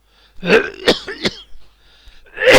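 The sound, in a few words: throat clearing cough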